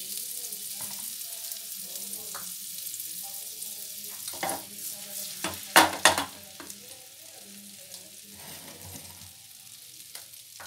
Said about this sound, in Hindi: अब इसमें हम ये बटर है इसको डाल देते हैं।